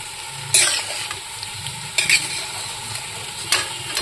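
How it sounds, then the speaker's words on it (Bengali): Boiled potatoes and dried boiled peas sizzle in a pan for ghugni, a close, steady fry broken by three loud scraping stirs of a spatula, with no one speaking. "এই যে আলু কষে নিয়েছি আর দিয়ে দিলাম শুকনো সেদ্ধ করা মটর কড়াই। তো এটা করছি হচ্ছে ঘুগনি।"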